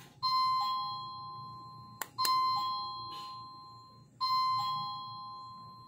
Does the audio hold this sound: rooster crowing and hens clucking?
no